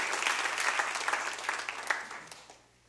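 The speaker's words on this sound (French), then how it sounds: "On peut encore applaudir tous les responsables" A church congregation applauding during a Sunday service, dense sustained clapping that gradually tapers off and fades to near silence at the end.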